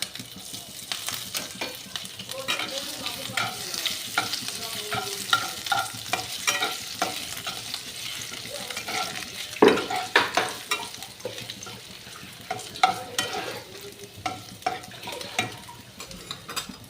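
Crushed ginger sizzles in hot oil in a pan while being stirred, a soft steady frying hiss broken by repeated scraping strokes and occasional clinks of the spoon against the pan.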